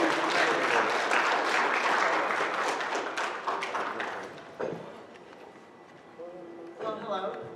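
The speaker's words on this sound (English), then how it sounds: "So everybody give them a round of applause," An opening-ceremony audience gives a round of applause for a local wildlife rescue nonprofit, a dense wash of clapping that swells loud at first and then thins and fades, with scattered voices surfacing near the end.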